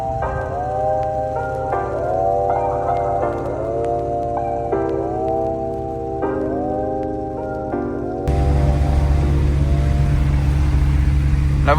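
A Porsche 911 (996) Carrera 4S on regular tyres drives over a snowy road. Its engine note climbs and drops through several steady gear changes, then a louder, constant roar of road and wind noise takes over.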